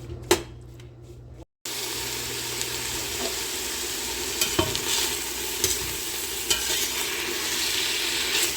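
Garlic and dandelion leaves sautéing in a pan over medium heat make a constant close sizzle and crackle. Occasional scraping stirs run through it, and a short silence comes just before it starts.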